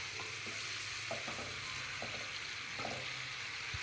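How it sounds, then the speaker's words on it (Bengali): Steady sizzling of boiled chicken frying uncovered in a pan until browned, with occasional scraping clicks from stirring, continuous and fairly close. "চিকেনটা একদম ভাজা ভাজা করতেছি"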